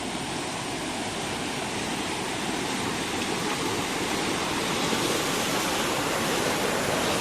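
Water overflowing a small mini dam rushes in a loud, unbroken wash of broadband noise that swells slightly toward the end, heard close up without any talking.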